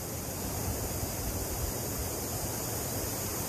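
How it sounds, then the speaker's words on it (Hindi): Steady, broadband rushing of sea surf mixed with jungle ambience at Radhanagar Beach on Havelock Island, a constant wash with no distinct breaks, heard alone without voices. "जंगल की आवाज और इस साइड समुंदर की आवाज।"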